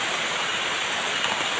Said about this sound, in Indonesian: Hujan pun mulai membesar